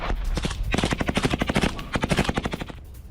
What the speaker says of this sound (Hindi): एक के बाद एक कई धमाके हो रहे हैं और इस बीच गोलियों की आवाज।